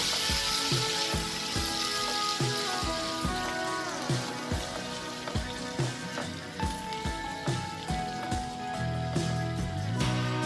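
Chopped French beans and sprouts cook in a pan, with a steady close sizzle and crackle like rain on a surface, plus sharp clinks and taps of a utensil in a regular rhythm.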